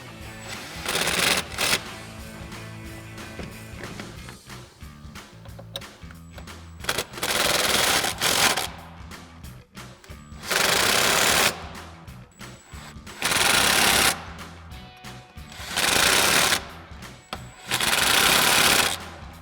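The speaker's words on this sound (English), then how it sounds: "Now once we have our last one installed, we'll begin tightening them down." Bolts are tightened on adjustable front upper camber arms with ball joints on a 2008-2023 Dodge Challenger, heard as loud bursts of rapid mechanical rattling from a power tool, several separate runs of a few seconds each, with quieter clinking between them.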